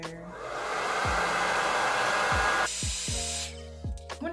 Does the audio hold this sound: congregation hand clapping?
no